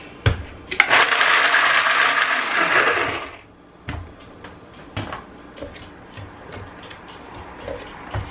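A blender whirs through pear cobbler ingredients for about three seconds, then stops, followed by scattered knocks and taps of scraping and handling nearby.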